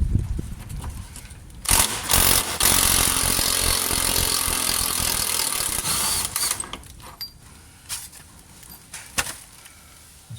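A pneumatic impact gun drives at a rear subframe bolt on a Jaguar XKR, a loud sustained hammering burst running several seconds, followed by shorter intermittent bursts and clanks in a workshop.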